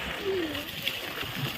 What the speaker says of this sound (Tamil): ஆ டேங்கி நிறைஞ்சே ஓடுது